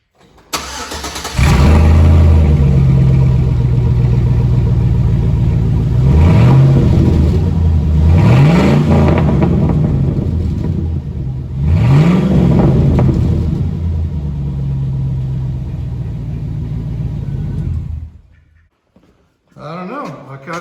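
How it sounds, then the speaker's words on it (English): A 2006 Chevrolet Silverado with its muffler removed cranks and fires, then settles into a loud, deep, raw idle with several rising revs, close by, before it shuts off. "now I'm curious what's going to sound like just without the muffler. So let's fire it up and find out"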